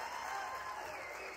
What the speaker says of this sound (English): You hear the crowd here.